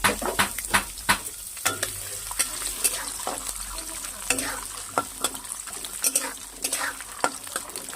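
Raw peanuts fry in hot oil in a wok with a soft continuous sizzle, broken by sharp scraping clicks of a spatula as they are stirred, close and fairly quiet.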